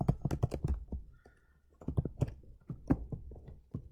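Computer keyboard typing comes in quick bursts of close, soft key clicks with a short pause in the middle, as a math expression for square root of x is entered.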